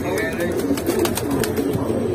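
Silver Sirazi pigeons at a sale give a brief murmur of low coos under a voice, with a faint chirp early on.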